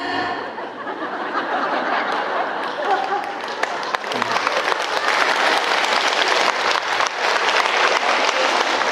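Sustained, dense applause from a Catholic church congregation at a Mass homily, steady and loud throughout with a few scattered chuckles mixed in.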